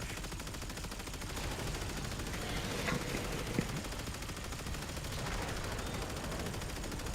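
Rattler gun firing repeatedly in the Warframe video game, a dense steady stream of rapid gunfire running the whole way through with a few sharper cracks near the middle.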